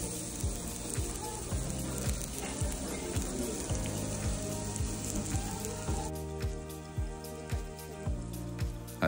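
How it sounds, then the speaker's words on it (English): A fillet steak sizzles on a hot plate in a cruise ship dining room, a continuous close crackling hiss with dense popping, heard alone without talk. "Let's listen to that sizzle."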